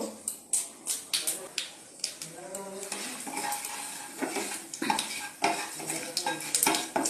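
Boiled lentils cooked with tomato and salt go into a pan of frying cumin and chilli and are stirred, with repeated clanks of a utensil against the pot over soft sizzling.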